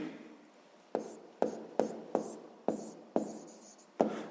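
Pen writing on paper in a maths lesson, about eight quick strokes in a steady rhythm, close and fairly quiet.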